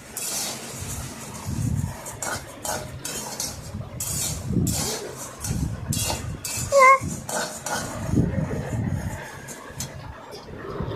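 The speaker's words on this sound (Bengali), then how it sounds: "দুটো ডালকে ভালোভাবে নাড়াচাড়া করে ভেজে নিচ্ছি কাঠখোলাতে" Two kinds of lentils being stirred and dry-roasted in a clay pan for homemade baby cereal, heard as close, irregular scraping and clinking of the utensil against the pan in bursts, with occasional faint background voices.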